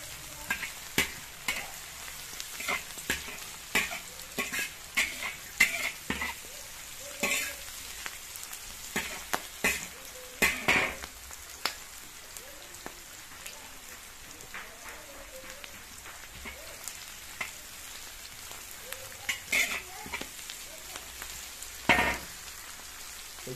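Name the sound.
onions frying in pan for pasta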